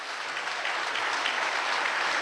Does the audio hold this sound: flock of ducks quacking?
no